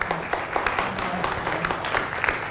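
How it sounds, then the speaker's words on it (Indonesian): A studio audience on the Indonesian talk show ILC applauds, a steady dense patter of many hands clapping at moderate volume with no voices over it. "Sebelumnya aplaus dulu untuk Indah Dewi Pertiwi."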